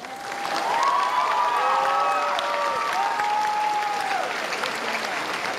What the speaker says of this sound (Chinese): 我想大家的掌声未够啊。